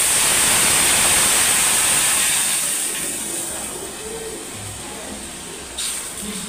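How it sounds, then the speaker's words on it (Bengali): Water poured into a hot pan of fried moong dal bursts into a loud hissing sizzle, which fades gradually into a softer bubbling simmer, with a brief scrape or clatter near the end. "মুগের ডালটা আমার ভাজা হয়ে গেছে। এবার আমি জল ঢেলে দেবো।"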